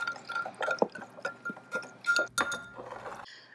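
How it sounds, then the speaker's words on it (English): Tamarind paste and soy sauce get whisked together in a glass bowl, a busy run of light clinks and wet slaps from the whisk against the glass, fairly close. "we're just going to whisk this all together and make sure to stir this up until the tamarind paste is mixed in"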